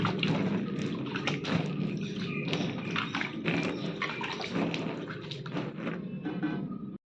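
Continuous light patter of water being sprinkled onto a cloth laid over tomato murukku vathal, with scattered taps, steady and close for several seconds until it stops.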